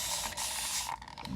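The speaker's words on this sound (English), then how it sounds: "We'll spray through the words, see what happens." Aerosol spray paint hisses through a stencil of words for about a second in a steady close spray, then stops, followed by faint clicks and a brief thump.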